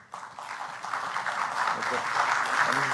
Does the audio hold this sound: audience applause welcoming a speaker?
yes